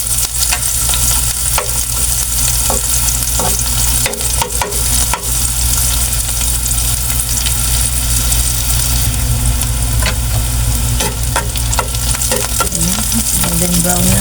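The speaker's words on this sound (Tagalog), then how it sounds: "So gisa na po natin ito. Sabay na natin yung ating bawang at sibuyas." Garlic and onion sauté together in hot cooking oil in a pan, giving a loud, steady sizzle with stirring and scraping throughout, no voices over it.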